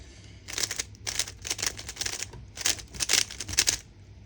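Cardboard packaging of a Gan 16 Maglev Max speed cube being opened, a run of crisp crinkling, scraping and tapping bursts in close succession, near and fairly loud, with no talk.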